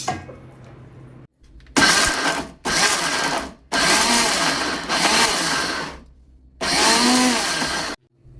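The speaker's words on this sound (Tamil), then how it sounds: "மிக்சியில் வந்து பல்ஸ் மோடில் போட்டு அரைங்கங்க." A mixer grinder whirs through ridge gourd chutney in pulse mode, five loud bursts of motor grinding separated by brief silent pauses, with no voices.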